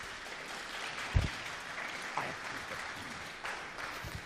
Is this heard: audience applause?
yes